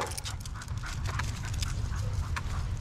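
Rough-looking purebred dogs, a kind once used for bear hunting, pant in quick, rhythmic breaths with soft whimpers close by, steady throughout.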